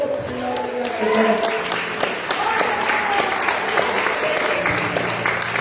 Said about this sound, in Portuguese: Se você acredita que Jesus está falando, aplauda ele aqui hoje